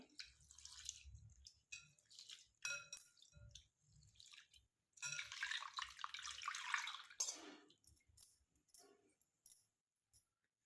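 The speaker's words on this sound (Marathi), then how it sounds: "दोन तीन पाण्याने याला स्वच्छ धुवायचं आहे" Water sloshes and drips in short bursts as basmati rice is swirled and rinsed by hand, with quiet pauses between; soft and close.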